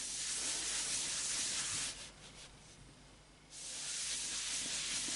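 Cloth rubbing down Danish oil on an oak and sapele lap steel guitar body, a loud close continuous hissing scrub that drops quieter for about a second and a half mid-way before resuming.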